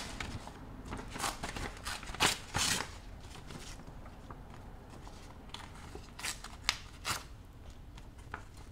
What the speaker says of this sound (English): Okay, let's tear.